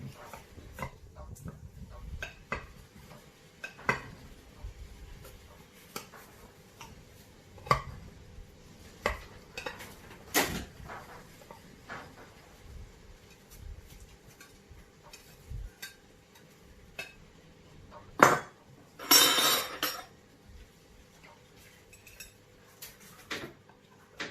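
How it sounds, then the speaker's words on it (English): Knife and cutlery clatter as a slice of chicken pie is cut and served: scattered light clinks and taps against a dish, with a couple of louder scrapes near the end, no talk. "So we'll cut a slice of the pie and see what we look like."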